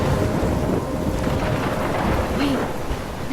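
Stormy wind roars steadily in Life is Strange, with low rumbling like distant thunder and rain mixed in, a brief voice-like tone partway through.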